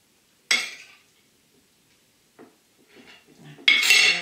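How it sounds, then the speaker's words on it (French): A spoon pressing gelatin down in a dish gives a few short clinks and scrapes, close and sharp, separated by near silence, with a louder scrape at the end. "On peut l'appuyer avec une cuillère pour qu'elle tienne au fond"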